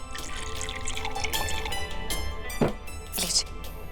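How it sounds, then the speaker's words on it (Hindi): Water poured from a jug into a glass, a short splashing trickle heard under a faint background of room noise. "इस जग में से पानी पीऊं? एक सेकंड, हम ग्लास में डाल देते हैं।"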